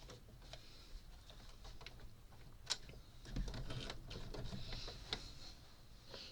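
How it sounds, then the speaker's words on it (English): A sewing machine stitches a scrappy quilt block in steady, fairly quiet runs, with faint ticks and mechanical whirring and no talk. "now I will stitch this one up and down"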